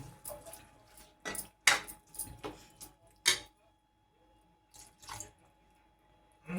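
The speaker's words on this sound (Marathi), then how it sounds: "तेव्हा थोडंसं पाणी घालते" Water splashes into a cooking pot of potatoes in short bursts, with clinks of metal and a few drips between pours, close by in a quiet kitchen.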